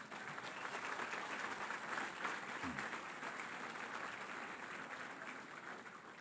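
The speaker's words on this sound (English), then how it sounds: "A round of applause for all of those" Audience at a polo Hall of Fame induction ceremony applauding inductees and award winners: broad, sustained clapping from a large room, even in level and heard from some distance, with no speech over it.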